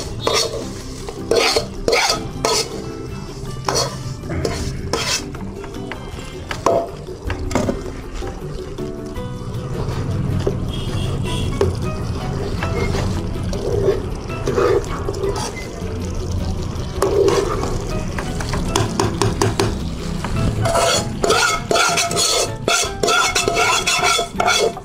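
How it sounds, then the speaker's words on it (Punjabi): Gram flour (besan) being stirred in a pan for Punjabi-style besan burfi, a spoon scraping and knocking steadily against the metal with a soft sizzle beneath, continuous and close throughout. "ਹੁਣ ਮੈਂ ਇਹਦੇ ਵਿੱਚ ਬੇਸਣ ਮਿਕਸ ਕਰਾਂਗੀ"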